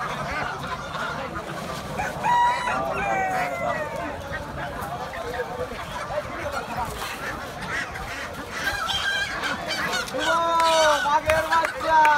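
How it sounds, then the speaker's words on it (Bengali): Geese, Chinese geese among them, honk repeatedly in loud nasal bursts at a busy weekly livestock market at the DIT field in Fatullah, with people talking steadily underneath. "রাজহাঁস,"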